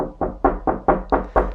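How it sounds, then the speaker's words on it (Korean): Seven firm knocks on a door come in a steady, evenly spaced rhythm, loud and close with no voices. "문 두드리는 노크 소리였습니다."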